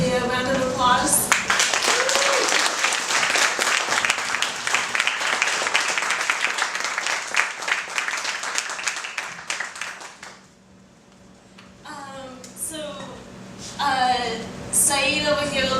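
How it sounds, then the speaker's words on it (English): Audience at a public meeting on surveillance gives the panelists a round of applause: dense, loud clapping for about ten seconds that fades out, followed by a host speaking. "could y'all give our panelists a round of applause?"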